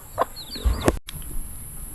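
A hen with a brood of five new chicks on a backyard farm gives a few short, close clucks, brief and separated by quiet gaps.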